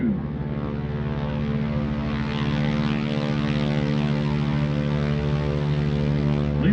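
Classic World War II propeller aircraft, led by a North American T-6 Texan, throttle up at an airshow at Eielson Air Force Base in Alaska, giving a steady, loud droning engine hum that builds slightly and holds with no talk.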